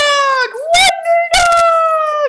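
Dog howling and whimpering from behind a door, a loud sustained tonal howl that bends in pitch, broken twice by sharp higher whines, close and alone.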